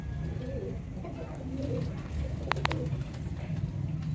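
Zeera shy (sharmeela) pigeons coo in low repeated calls under a steady background rumble, with a couple of sharp clicks near the middle and some faint talk.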